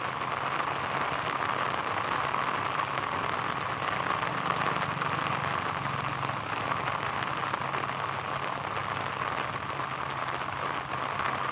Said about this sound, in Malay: Hujan semakin turun, semakin lebat.